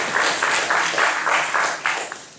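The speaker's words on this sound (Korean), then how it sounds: "박수 한번 드릴게요." A church congregation breaks into sustained applause, dense and steady clapping from many hands filling the room without pause.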